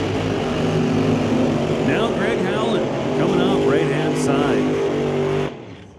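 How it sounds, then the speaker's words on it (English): Drag racing funny cars at an NHRA Northwest National Open Series event doing long burnouts, with a loud sustained engine roar and rising revs, an announcer talking over it, then a sudden cut-off. "Nice, big, long burnouts."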